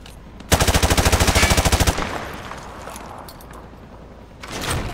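Rapid burst of automatic gunfire from Call of Duty Modern Warfare 2, shot at a target through a wood panel, about a dozen evenly spaced loud shots, then a quieter room tone and a short rustling sound at the end.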